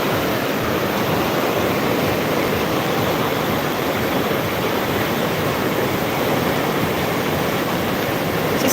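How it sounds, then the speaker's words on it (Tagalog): Swirling floodwater rushes steadily during a flood, a loud, continuous roar of churning water with no pauses, heard alone. "Tingnan mo yung parang umiikot yung tubig."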